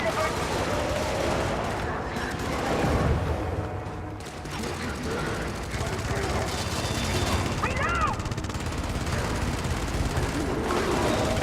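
Bursts of automatic gunfire in Helldivers 2 rattle as rounds are fired at a Hulk, with heavy booms and clanks among the shots and a voice talking over parts of the action.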